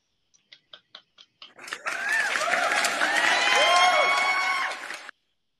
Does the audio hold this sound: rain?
no